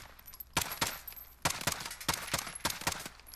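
Rapid gunfire bursts in the video game Modern Warfare, several sharp close shots in quick clusters over a low ambient background, with no talk.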